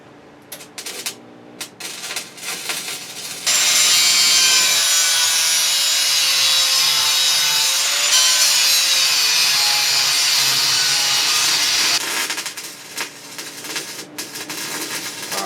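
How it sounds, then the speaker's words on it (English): A wire wheel scrubs rust off a metal porch handrail part in a workshop, a loud steady grinding whine with a wavering tone that holds for about eight seconds, with lighter scraping and tool handling before and after. "I'll put it on the wire wheel over here and clean it up."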